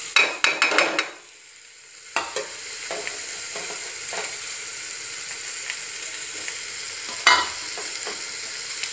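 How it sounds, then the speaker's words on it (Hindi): Spinach goes into a hot tempering pan with a burst of clattering, then fries with a steady, moderate sizzle. Occasional stirring knocks and a sharp scrape come through near the end, and nobody speaks. "इसका अंदर में पालक डाल दूंगी।"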